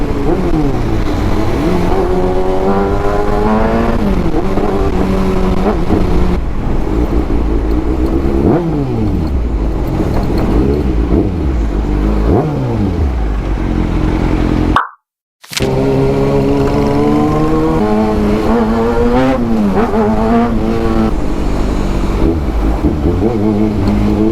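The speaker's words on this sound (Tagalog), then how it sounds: "ganito kaingay yung motor mo" A loud Kawasaki Ninja ZX-6R 636cc motorcycle engine revs and shifts through gears repeatedly, pitch climbing and falling, with a brief cutout partway and the bike roaring on.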